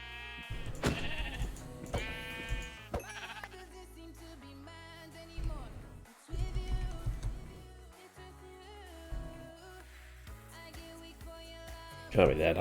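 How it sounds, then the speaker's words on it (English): Minecraft sheep bleat in a game world, several wavering bleats early and a few more later, mixed with game music and other game noises. "Can't be that hard to find a sheep, surely."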